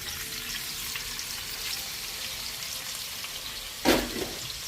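Meat for jambalaya fries in hot oil with a steady, close crackling sizzle, broken near the end by a brief louder clatter and splatter, no speech.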